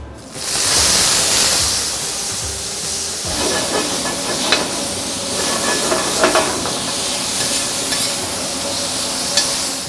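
Meat sears in a smoking-hot oiled pan. A loud sizzle bursts at the start, then settles into a steady hiss with scattered crackles and pops, with no talking.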